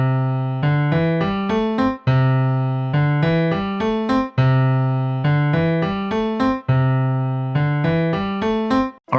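A keyboard plays the opening riff of a song, a bright repeating ascending figure of plucky notes cycling four times in steady rhythm, close, clean and alone.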